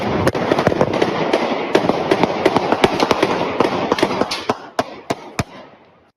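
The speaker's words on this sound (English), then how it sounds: "Then you hear gunfire." A rapid burst of sharp gunfire cracks and pops in quick succession over a dense crackling wash on a city street, thinning to a few loud isolated bangs near the end.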